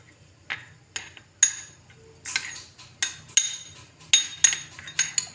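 A spoon clinks and scrapes against a metal pan while barfi mixture is stirred into sugar syrup in a home kitchen. Sharp, close taps come at an uneven rhythm, roughly one or two per second, with a faint hum beneath and no talk.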